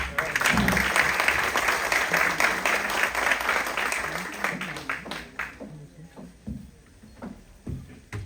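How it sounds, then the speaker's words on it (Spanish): Loud applause from a large university audience welcoming a speaker, a dense wash of clapping that slowly thins into scattered claps near the end. "Por favor, un fuerte aplauso"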